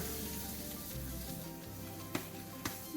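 Leftover pork warming in a hot pan gives a steady close sizzle and frying hiss throughout, with a couple of brief utensil clicks and scrapes.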